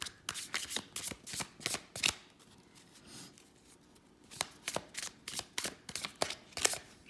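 Tarot cards are shuffled by hand before a clarifier card is drawn, quick close riffling bursts and flicks, a quieter pause in the middle, then another run of crisp shuffling, with no talking.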